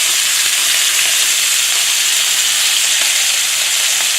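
A handful of garlic hits a hot pan cooking elk and sets off a loud, continuous hissing sizzle, close and unbroken from start to finish.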